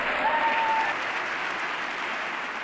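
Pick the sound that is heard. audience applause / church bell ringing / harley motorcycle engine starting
audience applause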